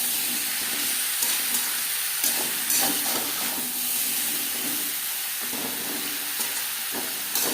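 Potatoes and pointed gourd (potol) fry together in a little oil for a vegetarian curry, giving a steady broadband sizzle and hiss throughout with a few soft stirring knocks, close and continuous, no talking.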